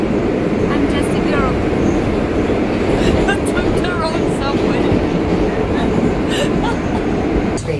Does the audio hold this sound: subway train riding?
yes